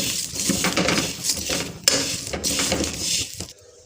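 Whole spices dry-roasting in a pan for homemade garam masala, a steady rattling scrape of spices stirred against the metal, close and continuous before a sudden stop.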